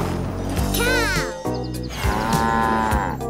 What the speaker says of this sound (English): Mooing cow.